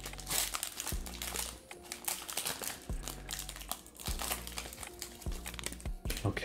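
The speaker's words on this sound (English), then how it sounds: "let's try not to fumble ourselves out of opening a pack here" Crinkly plastic wrapper of a football trading card pack from an NFL Rookies & Stars blaster box being torn open and handled, close-up crackling and crumpling in irregular bursts with a few soft thumps.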